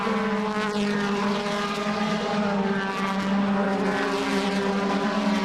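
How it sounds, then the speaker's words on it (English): Loud, sustained roar of DTM touring car engines at Hockenheim with rising and falling pitch as cars sweep past on the first lap, continuous throughout with no talking. "Just listen to the roar of those engines."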